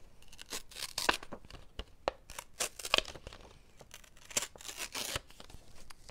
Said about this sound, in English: I'm gonna take this and I'm gonna tear it